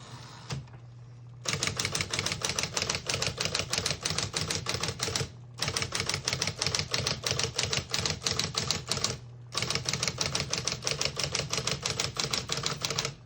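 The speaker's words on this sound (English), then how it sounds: "We're going to keep it on single and finish typing." Rapid, steady clatter of a 1963 Smith-Corona Electric portable typewriter typing, with a low motor hum underneath and two brief pauses between runs of keystrokes.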